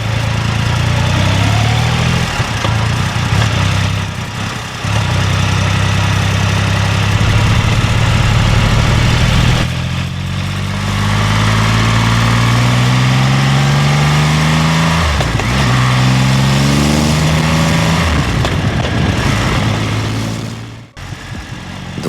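Triumph Rocket 3 motorcycle, its 2.5-litre three-cylinder engine rumbling loud and close, a deep low idle broken by several throttle blips that rise and fall in pitch before dropping away near the end.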